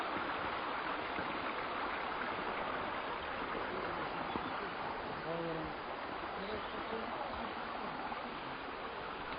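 A clear mountain river in the Karatau Nature Reserve rushes steadily, a dense unbroken wash of flowing water that stays loud and even throughout, with no voices.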